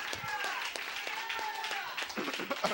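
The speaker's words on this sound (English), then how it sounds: "Oh, clap your hand and praise him." Church congregation clapping hands in praise during a worship service, rhythmic claps over sustained singing or organ tones, with voices mixed in.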